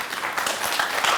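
A studio audience at a television game show gives a short burst of steady, fairly loud clapping that fills the room.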